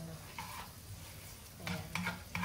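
Shrimp and garlic sautéing in a pan for ginataang shrimp with spinach: a faint steady sizzle broken by a few short bursts of louder crackling and stirring scrapes.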